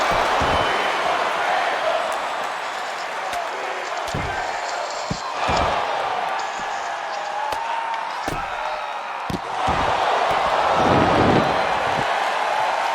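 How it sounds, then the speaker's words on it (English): A pro wrestling crowd yells a rhythmic chant for a table, a loud, sustained roar of many voices filling the room with repeated surges and sharp thuds from the ring. "Sounds like the crowd is yelling, "We want table.""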